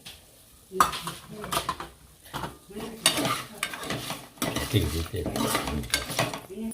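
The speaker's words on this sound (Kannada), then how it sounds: "ಅದಕ್ಕೆ ಸಾಸಿವೆನ ಹಾಕ್ಕೋತಾ ಇದ್ದೀವಿ" Mustard seeds go into a pan of frying hibiscus flower curry, heard as close irregular scraping and clinking of a spoon stirring against the metal pan with a light sizzle beneath.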